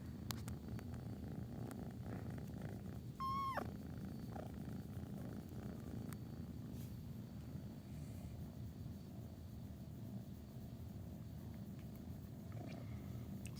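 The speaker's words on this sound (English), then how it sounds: "He's purring at me too" A domestic cat purrs steadily and softly at close range throughout, a low continuous rumble with a brief higher chirp or squeak partway through.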